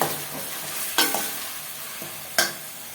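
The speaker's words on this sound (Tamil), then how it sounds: "இப்போ இது பச்சை வாசனை போகிற வரைக்கும் வதங்கட்டும்." Shallots sautéing in a pan for a fish curry with sardines, a steady sizzle broken by a few sharp stirring scrapes and clatters, close and fairly loud, with no talking.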